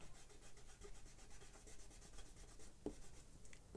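Plastic eraser rubbing out pencil lines on paper, a soft continuous scrubbing close up with a faint dull tap near the end, quiet over low background hiss.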